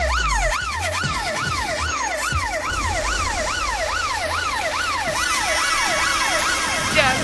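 Wailing police siren close by, its pitch sweeping up and down in a fast regular cycle, loud and continuous over low traffic rumble.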